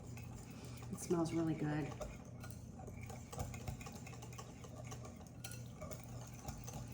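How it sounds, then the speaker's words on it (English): Utensil stirring lemon bar filling of sweetened condensed milk and egg yolks, breaking up the yolks; soft clinking and scraping in a bowl under a speaking voice. "Make sure it's all mixed in together. Break up those yolks."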